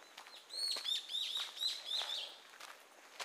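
Several bird chirps ring out in a quick series of high, bright calls, moderately close against a quiet background, on a wooded walking trail around Jeongneung Tomb in Korea.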